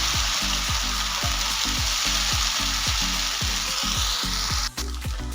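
Green moong and rice dosa batter sizzles loudly and steadily on a hot pan, with a regular series of soft scraping strokes as the batter is spread.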